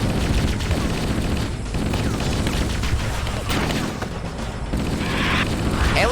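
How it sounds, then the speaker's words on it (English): Gunfire rattles through a firefight in Halo: Combat Evolved, with dense volleys of shots and booms overlapping continuously, loud and busy, while a voice talks faintly underneath. "everybody's shooting at me"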